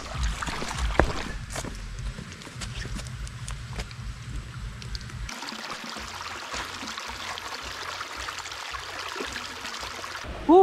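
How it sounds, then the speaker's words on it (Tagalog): A stream flows near Kawa-Kawa Falls, a steady close trickle and babble of water running throughout with small knocks and rustles, alone without talk. "Sapa daw, sa sapa daw."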